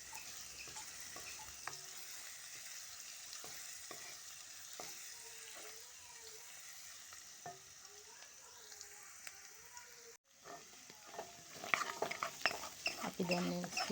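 Crushed garlic frying in a pan until golden, a steady soft sizzle with occasional light stirring clicks and scrapes, quiet and close, getting busier and crackling more toward the end.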